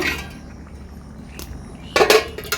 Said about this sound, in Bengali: এবার আমি ঢাকনাটা তুলে দেখব